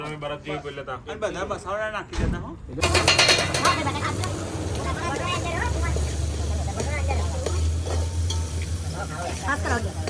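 Khichdi with peas and potatoes cooks in a pan with a loud, steady sizzle. Scraping and stirring run throughout, and voices talk over the frying near the start.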